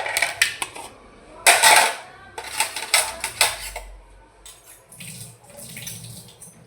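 Water splashes into a pot to soak rice in a home kitchen, arriving in short, fairly close bursts with light clinks of dishes and utensils between them and no talking.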